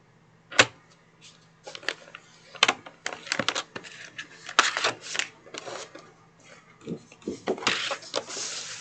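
A Dollar Tree placemat is cut on a cutting mat with a run of sharp snips, clicks and scraping strokes in irregular bursts, close and moderately quiet over a faint low hum, with no talking.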